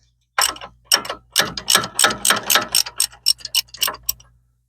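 A ratchet wrench clicks rapidly while loosening front brake fasteners on a 2003 Dodge Ram, loud and close, in uneven bursts of sharp ticks lasting about four seconds, with no talk.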